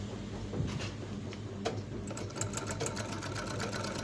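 An overlock sewing machine runs on its own at a moderate level, its rapid needle ticks coming faster and more regularly as the stitching goes on, with no speech.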